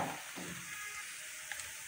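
Oil frying in a pan with red chilli spice for an aloo samosa filling, a steady close sizzle that carries on unbroken with a brief stirring scrape near the start.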